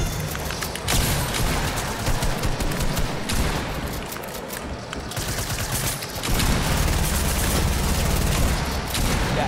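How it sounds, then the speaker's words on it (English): Dense rapid gunfire in a Fortnite-style battle royale video game, continuous loud volleys and bursts filling the whole stretch, close and intense with little break. "I don't know who's shooting me."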